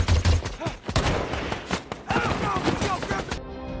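Gunfire in the war film American Sniper: several sharp, cracking shots and thuds burst out irregularly amid a busy, dense soundtrack mix before it cuts off abruptly near the end.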